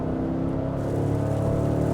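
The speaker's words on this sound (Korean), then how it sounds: "이런 V8 직분사 엔진을 탈 기회가 그렇게 많지 않잖아요" Cadillac Escalade ESV V8 direct-injection engine pulling steadily under acceleration, a loud continuous droning growl heard from inside the cabin without speech.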